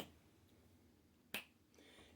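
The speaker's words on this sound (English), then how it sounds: "going over there and snapping your fingers" A single sharp finger snap rings out near the mic against a quiet room, followed by a faint trailing rustle.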